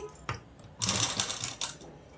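A sewing machine stitching along a folded fabric edge of a festival dress runs in short, close mechanical bursts, with a brief pause between runs of stitching.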